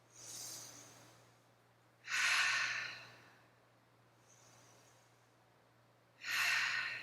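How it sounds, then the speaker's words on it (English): Two deep, slow breaths during a fitness class, each a loud airy exhale standing alone against quiet, separated by softer inhales, with a faint steady hum underneath. "Take 2 deep breaths."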